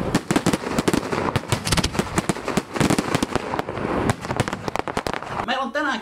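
Professional fireworks fire at a farm show, with a rapid volley of sharp bangs and crackles stacking into a dense barrage, then a loud shout rises near the end.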